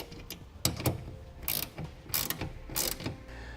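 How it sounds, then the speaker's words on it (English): A 9/16 wrench ratcheting to tighten a clamp bolt on a PowertraxPRO MX hard tonneau cover on a 2017 Ford F-series truck, several short bursts of rapid clicking close by. "Once we get it hand tightened, you can tighten it the rest of the way down."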